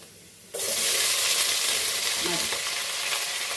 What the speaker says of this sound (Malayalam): സവാള ഉരുളക്കിഴങ്ങ് ഇട്ടിട്ടുണ്ട് നല്ലപോലെ ഇളക്കുക